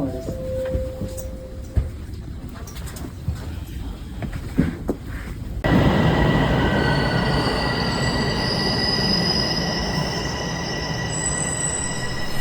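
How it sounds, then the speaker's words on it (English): Toronto subway train pulling into Museum Station, a loud rumbling roar of wheels on track with rising squeal tones, close up and filling the space after quieter platform noise. "So the next train took me to Museum Station."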